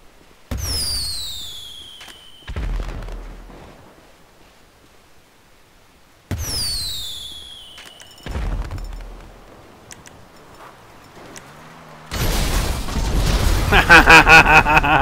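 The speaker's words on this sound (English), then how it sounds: "Oh yeah, they do have a new firework launcher." Fireworks from a firework launcher in Grand Theft Auto V: sharp whistling streaks followed by booming bursts, repeating several times, ending in a dense crackling barrage.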